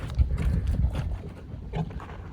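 Horses, including young foals, walk down toward water to drink, their hooves giving soft, uneven clip-clops at moderate distance, fairly quiet, with a light outdoor background.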